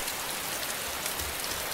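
Steady, dense rainfall in the video game DayZ, a constant even hiss of drops with no voices.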